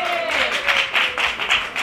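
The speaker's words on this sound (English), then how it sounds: "You clap it up for that." An audience at a bikini fitness challenge event claps in a loose rhythmic beat, near and moderately loud, with a voice trailing off at the start.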